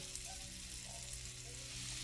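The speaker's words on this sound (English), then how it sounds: "I'm going to go ahead and add the butter in to basically deglaze the pan" Butter sizzling in a hot pan after chicken has been cooked, a steady close hiss and crackle of frying with no talking.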